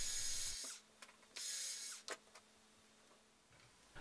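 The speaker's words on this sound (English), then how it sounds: "I'm just gonna start off by drilling some holes to those areas." Short bursts of a small high-pitched drill making small holes in a carp swimbait start and stop, with a faint hum and a few light taps between them.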